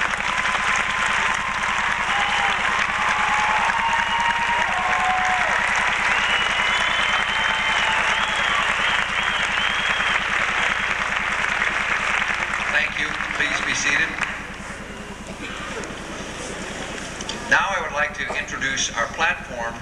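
Sustained applause from a college commencement audience, with a continuous broad wash of clapping that fills the hall and eases slightly toward the end.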